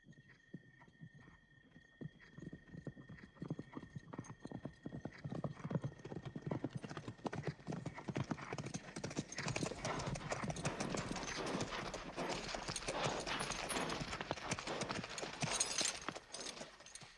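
Hooves of an army's many horses approach as a dense clip-clop that builds from sparse steps into a loud, continuous rumble, with a faint neigh and a steady high tone in the background.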